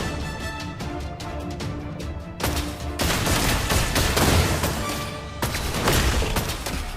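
Rapid bursts of gunfire crackle in a busy game soundscape, dense overlapping shots with sharp attacks at several points, fairly loud throughout.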